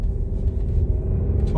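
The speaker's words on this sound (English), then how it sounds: "we'll take off in first gear, and we'll move into second by tipping it" A 2015 Audi A1 1.0 automatic pulls away in first and shifts up toward second, a steady low engine drone running underneath someone talking throughout.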